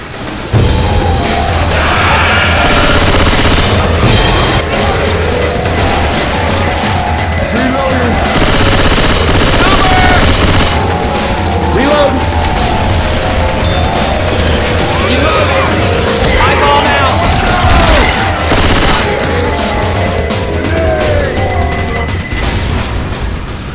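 Constant loud gunfire and booms in Left 4 Dead 2 during a large zombie horde fight at the Dark Carnival, dense rapid shots and blasts throughout, with players shouting over the din.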